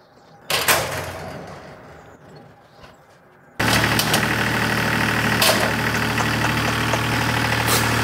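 A tractor engine starts up on a farm yard after a short door clatter and faint handling noises, then settles into a loud, steady, throbbing idle close by for the rest of the clip.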